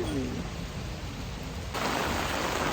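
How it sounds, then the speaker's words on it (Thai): Rain falls steadily at Tsurunoyu onsen, a centuries-old hot spring inn in the forest at Nyuto Onsen, Japan, as a dense, continuous hiss that grows slightly louder partway through. "ตอนนี้ที่ซิรินายุฝนตก"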